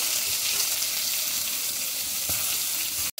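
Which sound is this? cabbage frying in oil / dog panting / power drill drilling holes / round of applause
cabbage frying in oil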